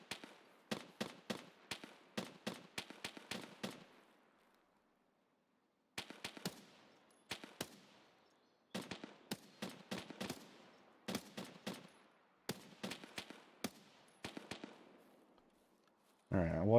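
Player's gunfire in Escape from Tarkov, sharp close bursts of rapid automatic shots in several groups separated by short pauses, loud and crisp with brief reverberant tails.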